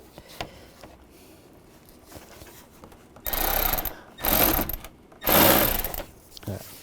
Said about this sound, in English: Use a T30 socket. Take those 2 screws out.